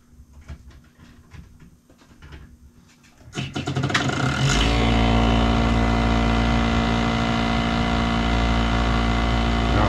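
A Snyder General gas furnace gives a few faint clicks and rumbles, then fires up at about four seconds into a steady, loud, close drone with a deep hum that carries on to the end.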